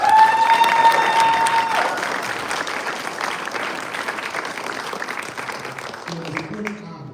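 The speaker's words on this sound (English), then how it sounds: "Give her a round of applause." A crowd at a press conference applauds loudly and continuously, the clapping slowly thinning and fading toward the end, with a shout or cheer rising early on.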